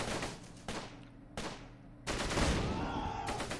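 Gunfire in the Close Combat World War II strategy game, a few sharp separate bursts with pauses between them, the last burst longer and more sustained, loud and close with no talk.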